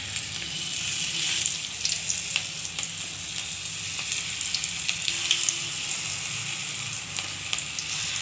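Small cabbage pakoras sizzle and crackle in hot oil, a steady bright frying hiss with scattered pops and occasional stirring clinks, moderately close and continuous throughout.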